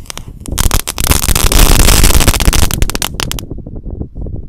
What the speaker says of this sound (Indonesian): Ini ada mercon telur dino pretek atau mercon kretekan 1 pak sekaligus ya